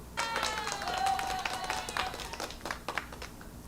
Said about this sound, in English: Did I lose my applause button?